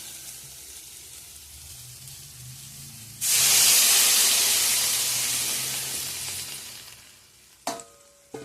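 Water poured into a hot pan of fried spiced curry with soybean, potato and pumpkin bursts into a loud, sudden hiss and sizzle that slowly fades over several seconds, followed by a couple of clanks.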